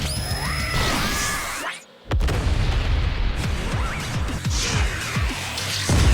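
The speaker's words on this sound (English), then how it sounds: "The bunny explosion!" Cartoon explosion set off by a bunny's jetpack in an Animaniacs episode: a loud booming blast, a sudden brief dropout, then a crashing roar, with busy cartoon music and effects layered around it throughout.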